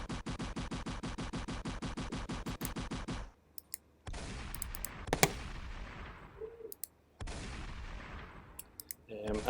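Weapons firing at enemies in Incubus, a rapid machine-gun-like burst of regular shots followed by scattered blasts and clicks, loud and close, with someone talking over it.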